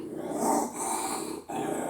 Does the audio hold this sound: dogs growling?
yes